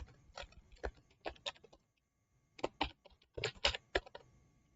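Keystrokes on a computer keyboard while entering a formula in an Excel spreadsheet, arriving in quick uneven bursts separated by a brief pause, close and fairly quiet with no talk.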